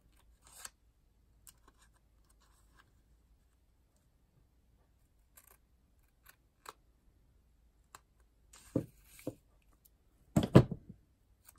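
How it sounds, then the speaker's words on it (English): Old scissors cutting paper while making craft journal tags, heard as a few sparse snips and clicks that cluster into louder crunchy cuts near the end, close by in an otherwise quiet room with no talking. "And I'm going to use my old scissors."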